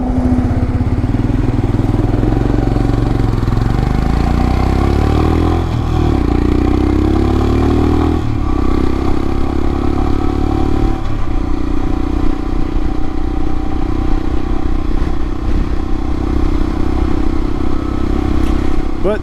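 A 2022 Royal Enfield Himalayan fitted with a Hitchcocks carburetor conversion cruises on the highway around 65 mph, its engine droning loud and continuous with low thrumming, a pitch shift partway through, and wind rumble throughout.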